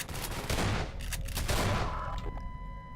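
Shotgun blasts in Half-Life 2: The Closure remod, several heavy booming shots fired in quick succession, loud and close, with reverberant tails fading out at the end.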